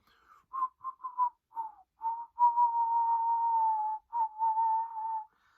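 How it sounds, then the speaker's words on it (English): A person whistling a few short, wavering notes, then longer held tones, thin and breathy up close, with brief pauses between phrases and no talk. "Can you whistle?"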